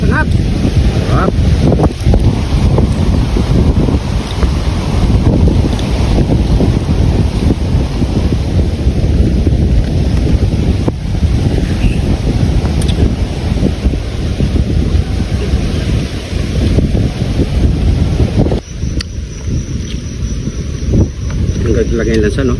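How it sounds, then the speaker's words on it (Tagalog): Strong wind buffeting the microphone outdoors near open water, a loud continuous roar of gusts across the whole stretch, with faint voices talking under it. "Hangin."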